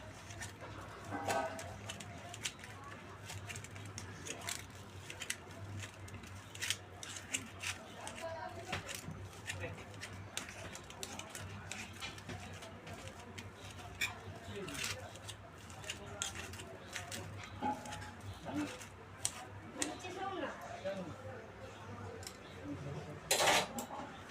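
A fork mashes hot boiled potatoes in a dish, producing faint, repeated clinks and scrapes of metal against the bowl with soft squishing, quiet and close, continuing steadily.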